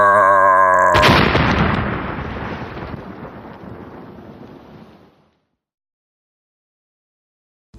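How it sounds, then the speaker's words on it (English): A sudden loud movie explosion blast cuts off a tone, then a deep rumbling boom rolls and fades over several seconds into silence. "We need more explosions."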